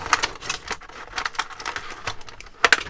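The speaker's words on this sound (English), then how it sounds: "We're going to need the scissors to open it up." Scissors snip through a plastic clamshell package holding a Johnny Lightning toy car, giving a series of sharp crisp cuts and crackles spread across a few seconds, with a louder snap near the end.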